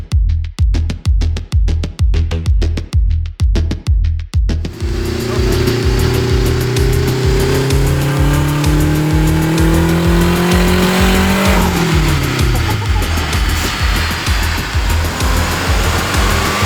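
Turbocharged Acura RSX engine, running on E fuel, pulses in rapid rhythmic bursts, then revs up into a loud, sustained rising roar that climbs steadily before shifting pitch and holding at high revs, close and powerful, with no talking.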